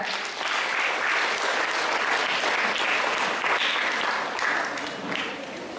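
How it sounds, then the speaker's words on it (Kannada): Loud, sustained applause from a school audience welcoming a tenth-grade student speaker at a Kannada Rajyotsava celebration, dense clapping that swells and holds for several seconds before easing slightly. "10ನೇ ತರಗತಿಯ ಧನುಷನ್ನು ಜೋರಾದ ಚಪ್ಪಾಳೆಯೊಂದಿಗೆ ಸ್ವಾಗತಿಸೋಣ"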